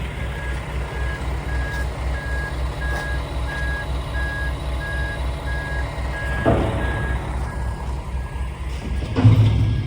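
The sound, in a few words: truck reversing and leaving the yard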